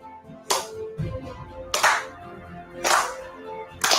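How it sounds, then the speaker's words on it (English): A football team does a slow clap: four loud, sharp, evenly spaced claps about a second apart, with quiet gaps between them. "The slow clap."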